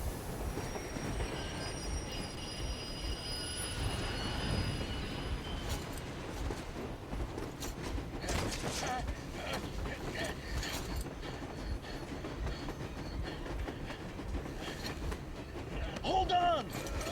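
A train rolls along rails in the post-apocalyptic shooter Metro Exodus, a steady rumbling clatter with squealing wheels and sharp metallic bursts, while someone talks over it.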